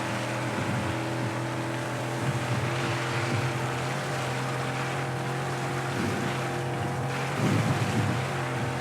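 A rally car in Dakar 18 ploughs through water, giving a steady, dense rush of splashing and churning over a low engine hum, loud and continuous without speech.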